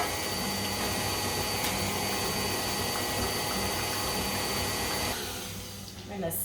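An electric mixer beats eggs into batter for Italian orange juice cookies, a steady, loud motor whir that runs evenly and then eases off slightly toward the end.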